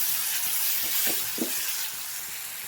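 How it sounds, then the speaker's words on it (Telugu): Asafoetida being stirred into a pot of mung dal rasam, giving a steady soft sizzling hiss broken by a couple of brief spoon scrapes near the end, close by with no talking. "ఇంగు వేసి కూడా మంచిగా కలపండి"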